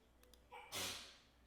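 A single quiet sneeze: a short intake of breath, then a sharp, hissing burst that fades quickly.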